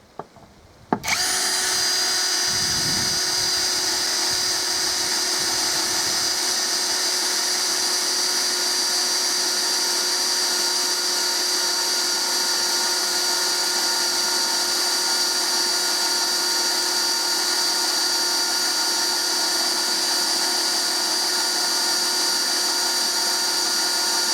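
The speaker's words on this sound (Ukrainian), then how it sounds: "Давайте режим свердління включимо." A PROCRAFT PA 21 Li cordless drill switched to drilling mode spins up after a brief click and runs steadily and loudly, a constant high motor whine held alone for over twenty seconds.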